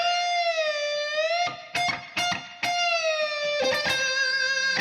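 Electric guitar with distortion playing bends and quick picked notes from a solo, a sustained bending note followed by choppy repeated picking and more held bends, loud and close, no talking.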